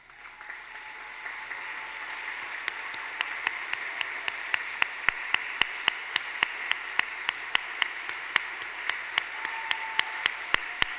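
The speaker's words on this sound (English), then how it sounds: "please stand for a round of applause if you're comfortable" A standing audience at a community celebration applauds in a steady, sustained wash of clapping, with scattered sharper individual claps standing out near the front and building over the round.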